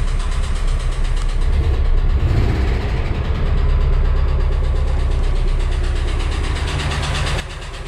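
Air-cooled engine of a VW T3/T25 van idling steadily after a minor service, heard as a close, loud, even rumble that drops slightly in level near the end, with no talk over it.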